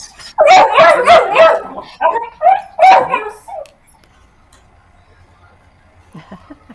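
A dog barks loudly and close several times in quick bursts over about three seconds, then whimpers faintly before near silence returns.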